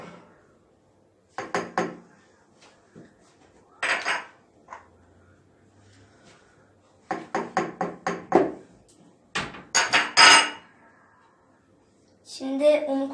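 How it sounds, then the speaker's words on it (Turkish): Cake batter with flour and cocoa being mixed by hand in a bowl, giving quick clusters of clinking, tapping utensil strikes separated by quiet pauses, with a louder clatter toward the end. "Bir de unu koyup yine karıştıracağım."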